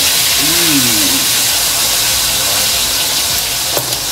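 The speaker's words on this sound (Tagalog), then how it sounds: "So, tara mga prito na ng mahiwagang tilapia." Tilapia frying in hot oil, giving a loud, steady, close sizzle and hiss. A few brief tonal squeaks and a soft clack sit on top of it.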